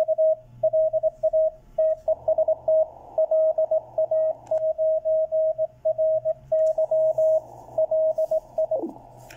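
Morse code CW signal received on a Malahit clone SDR receiver running demo firmware, a steady sidetone beeping in dots and dashes with short gaps, clear over a faint hiss, ending with a brief downward sweep.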